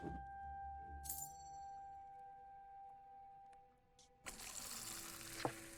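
A pint of beer pours in Fable 2 on Xbox 360, a soft liquid fill with a faint glassy clink near the start and a steady wash of pouring toward the end, backed by a quiet sustained game tone.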